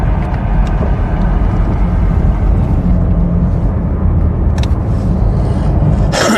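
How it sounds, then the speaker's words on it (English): A police helicopter hovers over a scene in Brazoria County, Texas, giving a loud, steady, low rumble that fills the whole stretch with little change. "I couldn't hear because of the helicopter"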